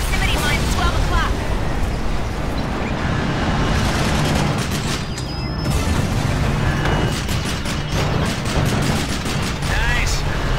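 Rapid assault rifle gunfire and booming blasts in a Fast and Furious Showdown video game, dense bursts of shots running loud and nearly continuous, with a voice talking over them.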